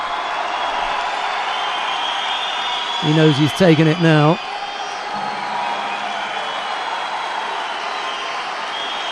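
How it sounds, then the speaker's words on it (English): A Georgian crowd roars steadily in an arena at a judo final in Tbilisi, a constant distant cheering bed with a commentator talking over it briefly. "Cheers from the Georgian crowd as Vaza Margvelashvili of Georgia takes gold in the under 66 kilo category"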